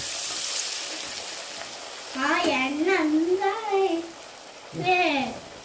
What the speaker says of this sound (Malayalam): ഇതാ എണ്ണൊക്കെ നല്ലോണം ചൂടായിട്ടുണ്ട് മക്കളെ ഇനി നമ്മളിതാ കുഴച്ച് വെച്ച എടുത്തിട്ട്